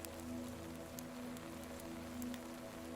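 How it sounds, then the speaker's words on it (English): Gentle rain falls steadily in a soft, continuous patter with faint drip accents, alongside a low sustained tonal hum running throughout. "and a gentle rain began to fall."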